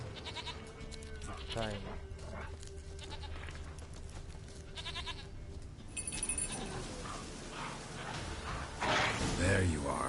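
A goat in the video game The Witcher 3 bleats several times amid in-game ambience, with voices speaking Spanish and English over the calls.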